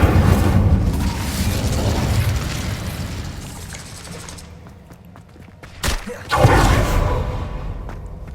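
In the Hogwarts Legacy game, an Incendio fire spell is cast, with a sustained roaring, rumbling blast that fades and is followed by a sharp burst and a renewed surge.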